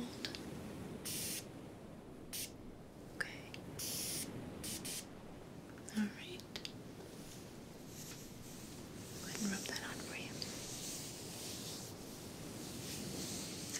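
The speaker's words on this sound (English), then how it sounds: "So I'm just gonna spray a little bit on." Liquid is misted from a spray bottle onto a person during a beach cabana relaxation and scalp massage session: a few short, soft hissing sprays stand out close up between gentle whispering and light rubbing.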